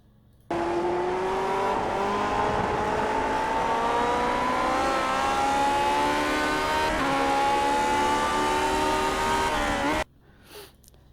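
Lotus 49 race car engine in the iRacing simulator at Motegi, holding a loud, steady high-pitched drone that rises slowly under low throttle, then cuts off abruptly near the end.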